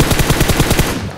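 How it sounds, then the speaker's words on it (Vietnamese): Rapid automatic gunfire from a bot in PUBG Mobile, a loud, steady burst of about ten evenly spaced shots that cuts off near the end, heard alone with no talk. "Bot bắn nó nữa kìa"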